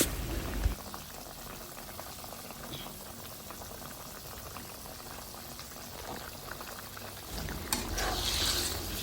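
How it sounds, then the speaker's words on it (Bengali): Fish curry with cauliflower and potato simmering at a boil as pre-fried silver carp goes in, a soft steady bubbling hiss with a brief splash and stirring scrapes near the end, no talk. "তরকারিতে যখন বলক চলে আসবে এই পর্যায়ে আমরা দিয়ে দিব ভেজে রাখা মাছ"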